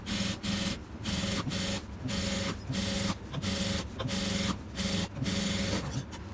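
Sewing machine stitching a silk pattu pavadai, loud close rapid mechanical whirring in bursts of roughly half a second, separated by brief pauses as the fabric is repositioned.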